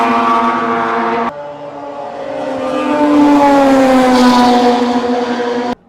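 Rotary-engined Japanese car at a GT-R owners' meeting, revving loudly with a high, droning buzz that climbs and holds in pitch, close by and dominant, with a sharp cut at the end.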